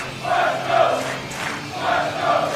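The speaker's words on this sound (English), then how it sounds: "Taking in these cheers." A West Coast pro wrestling crowd cheers for New Japan veteran Yuji Nagata, rising in two swells of chant-like roaring, steady and moderately loud.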